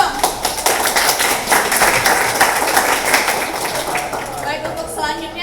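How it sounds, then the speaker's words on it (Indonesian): Students and audience at a high school debate competition clap together in a steady burst of applause that lasts the whole stretch, loud and close, with a voice briefly audible near the end. "tepuk tangan dulu dong"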